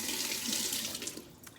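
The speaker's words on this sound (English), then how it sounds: "rinse my hand off." A kitchen tap runs steadily as hands are rinsed under it while making zucchini bread, a close, continuous hiss of splashing water that thins slightly near the end.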